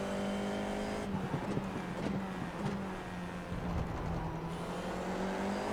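An FIA F4 race car engine in the iRacing sim at Rudskogen Motorsenter drones steadily and loudly throughout, its pitch dipping and rising slightly as the car nearly spins, with brief tyre scrubbing.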